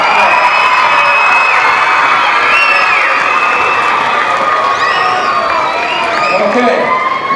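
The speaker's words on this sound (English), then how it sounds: "Let's give them a round of applause." A school dance festival audience cheers, whoops and claps for ballroom instructors, a loud sustained crowd roar dotted with children's high shouts throughout.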